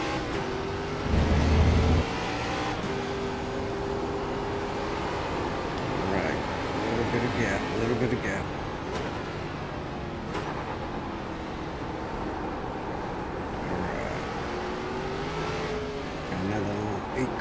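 Race car engines in an iRacing ARCA race at Indianapolis Motor Speedway, a video game, drone steadily with shifting revs as cars run close together, under continuous talk.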